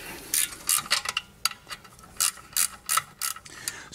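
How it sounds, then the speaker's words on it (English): A ratcheting wrench loosens rear suspension bolts on a BMW E36 M3, making crisp, close clicking bursts in short uneven runs with brief pauses between strokes. "It's probably not good to break bolts with your ratcheting wrench"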